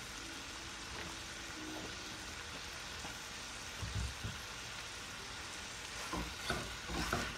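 Shrimp with minced garlic frying in a pan for shrimp fried rice, a steady close sizzle with faint stirring and a few soft spatula scrapes near the end, no talking.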